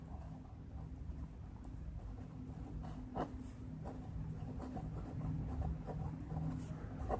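Pen or chalk writing by hand during a calculus lesson, faint scratchy strokes and small taps over a low steady background hum, with no speech.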